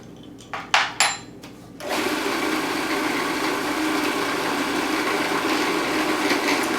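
A food processor mixes apricot crostata dough into a ball, starting after a few short clicks and knocks and then running as a loud, steady motor whir for several seconds.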